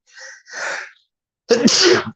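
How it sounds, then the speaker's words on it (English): A single sharp sneeze, preceded by two breathy inhales and ending in a loud burst, close to the microphone. "I got a sneeze coming."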